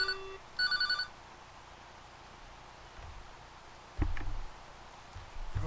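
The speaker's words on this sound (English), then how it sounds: "it still rings this phone" Field telephone bell on a Polish LP10 switchboard line rings in two short bursts at the start, followed by quieter handling clicks and a knock in a room.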